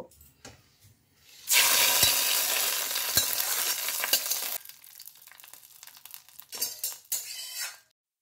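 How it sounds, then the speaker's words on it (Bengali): Spices tempered in hot oil are tipped into chana dal with ridge gourd, bursting into a loud, close sizzle that fades over a few seconds, followed by quieter stirring scrapes and clinks of utensils. "লো হিটে ফোড়নটাকে একটু টাইম নিয়ে ভালো করে ভেজে নেব"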